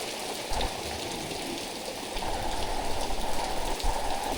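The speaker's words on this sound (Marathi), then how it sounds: "पाऊस पडतोय भरपूर" Heavy monsoon rain pours down in Sangameshwar in the Konkan region, a dense, steady hiss of close drops that swells slightly toward the end, with no voices.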